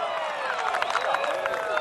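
Golf gallery at the 2021 U.S. Open roaring and cheering after Branden Grace's eagle second shot, a sustained crowd swell with scattered whoops filling the whole moment under light talk.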